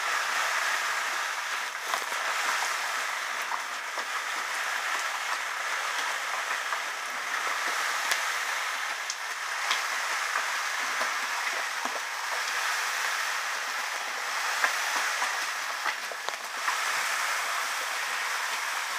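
Liquid pours steadily into a vessel during all-grain IPA home brewing, a continuous broadband splashing wash that runs unbroken for the whole stretch with small spikes, and no voices.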